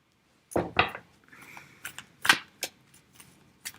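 A deck of oracle cards is shuffled by hand: several crisp riffles and slaps come close and fairly loud in short bursts against a quiet room.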